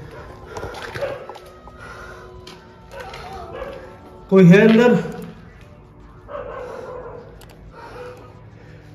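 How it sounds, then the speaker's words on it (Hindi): A dog barks behind an abandoned house, one loud sharp burst midway through, while someone talks in short phrases before and after. "ये जो पीछे की साइड में कुत्ता भौंक रहा है"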